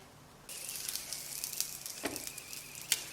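Small green pepper and carrot pancakes sizzle in an oiled, covered pan, starting abruptly and then crackling steadily with bright spitting pops, close and fairly quiet.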